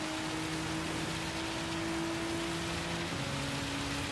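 Heavy rain pours steadily in Gran Turismo 7, a dense, constant hiss with faint steady engine tones running beneath it, no voices.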